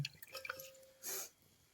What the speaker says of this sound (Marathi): फुलाची मस्त पिळून घ्यायची आहे त्याच्यात पाणी आहे ना ते पिळून काढायचं आहे